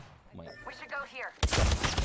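Gunfire in an Apex Legends match, a sudden loud burst of rapid shots arriving near the end after a player's speech.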